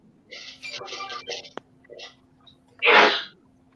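A single loud sneeze bursts out near the end, after a few soft breathy sounds and a faint click.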